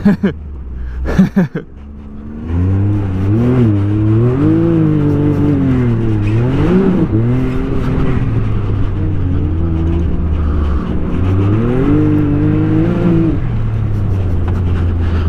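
A Can-Am Maverick side-by-side on a dirt course, its engine droning loud and close as it is driven fast, pitch rising and falling with throttle changes after a few brief knocks at the start.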